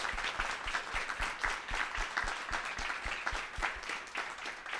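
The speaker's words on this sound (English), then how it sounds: "big round of applause" Audience at a student expo clapping in a round of applause, a close, steady patter of many hands with some distinct individual claps, moderately loud throughout.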